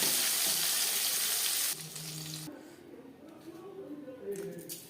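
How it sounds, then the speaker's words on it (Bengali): Whole cumin seeds crackle and sizzle in hot oil left from frying small fish, a steady broadband hiss that drops partway through and then carries on more quietly with faint clinks. "মাছ ভেজে নেওয়ার তেলে দিয়ে দিলাম গোটা জিরে"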